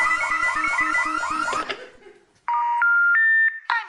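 Home alarm automatically phoning the local police station: a loud warbling siren cycles for over a second and a half, cuts off, then after a short silence a string of sustained, stepped electronic dialing tones follows, nearby and with no talk.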